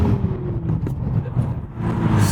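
A Toyota Supra engine hums and rumbles at low pitch, with a slight rise in revs toward the end, close and steady under faint background noise.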